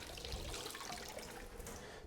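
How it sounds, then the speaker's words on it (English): Tap water runs steadily into a basin while it refills for another rinse of a wood duck skin during taxidermy washing, colder water this time; a continuous close splashing rush lasting the whole stretch, with no voices. "So we're just filling this up again for another rinse, make it a little bit colder this time."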